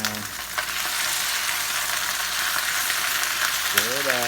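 Bok choy stir-frying in hot oil in a pan, a loud continuous sizzle and crackle with light stirring, close and alone.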